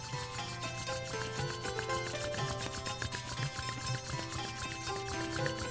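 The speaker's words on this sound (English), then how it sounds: "bring your palms together and begin to rub your palms" Palms rubbing together vigorously during a yoga session, a steady soft dry friction swish that continues without pause, faint and close, over a quiet background.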